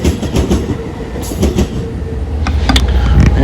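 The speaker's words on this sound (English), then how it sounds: "there's a NS engine leading an Amtrak train back to Norfolk" An Amtrak train led by a Norfolk Southern engine passes close by with a steady, loud rumble. The wheels give irregular clicks and clacks over rail joints, and there is a brief metallic squeal near the end.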